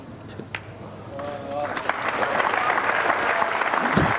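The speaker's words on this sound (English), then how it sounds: "Earl thanks the crowd for the applause." Spectators at the 2000 World 9-Ball Championship break into applause after a pool shot, a clapping swell that builds and holds under a commentator's voice.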